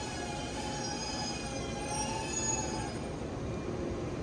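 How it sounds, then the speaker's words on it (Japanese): A train pulls into platform 2 at a Japanese station, wheels squealing with high, drawn-out metallic tones over a steady low rumble, fairly close and continuous with no voices. "次の電車来ましたね。"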